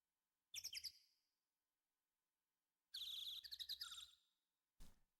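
Synthetic bird chirps play as background sound effects in the Apollo Justice: Ace Attorney video game, heard as three short bursts of bright twittering separated by silence, fairly clear and alone.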